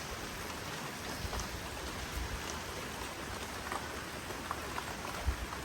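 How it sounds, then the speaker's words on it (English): Steady rain during the tail of Cyclone Gabrielle, a dense continuous hiss of drops on surfaces with a few louder nearby splats, heard alone without voices. "Oh, we've got rain."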